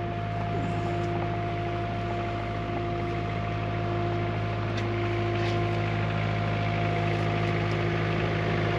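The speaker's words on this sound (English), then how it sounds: "I can get right up underneath it with a skid loader" A skid loader engine runs steadily at a constant low idle-like drone with a strong hum, loud and continuous throughout, with no talking.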